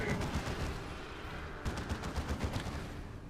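Razorback vehicle gunfire rattles in rapid, continuous bursts during a Dawn of War II: Retribution team tournament match, with steady battle noise throughout and sharper rhythmic volleys in the second half.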